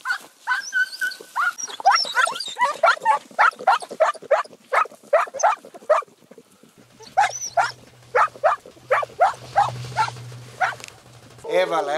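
Hellenic hound baying rhythmically while trailing a hare on a morning hunt, a run of loud, evenly spaced howling barks that pauses briefly and resumes, with a low engine-like hum underneath partway through.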